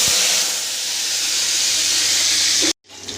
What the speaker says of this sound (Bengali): রসুনগুলো ভাজা হয়ে গেছে